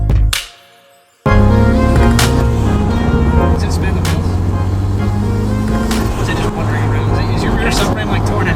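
A turbocharged Mazda Miata drives through traffic with a loud, steady engine drone and road roar that fills the cabin after a brief dip at the start. Voices talk over it.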